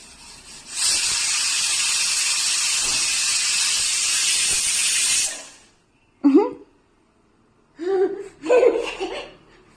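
Steam from a pressure cooker whistle hisses in a loud, sustained rush for several seconds, then stops, followed by a voice and laughter.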